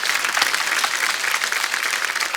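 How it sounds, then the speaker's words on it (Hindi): A crowd applauds loudly and steadily, dense clapping filling the whole moment with no pauses. "एक बार जोरदार तालियां"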